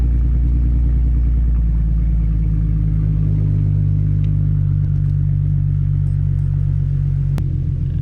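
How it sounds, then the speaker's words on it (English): Ford Mustang V8 idling with a new Bama tune, a deep steady rumble that stays close and loud throughout with a slight drop in pitch partway, and no talking over it. "she sounds like she has deeper idle now"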